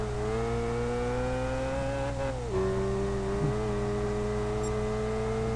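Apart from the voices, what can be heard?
Toyota 86 GT '12 engine roaring in video game Gran Turismo 5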